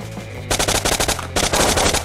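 Rapid automatic gunfire from the online shooter Blockpost, two loud close bursts of evenly spaced shots separated by a brief lull, with no voices over them.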